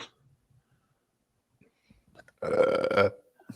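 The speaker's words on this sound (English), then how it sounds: "I'll be burping." A single loud, rough burp lasting under a second follows a few faint rustles and small sounds in otherwise quiet surroundings.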